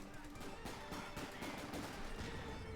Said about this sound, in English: Lots of light machine gun fire against Price's force out in the open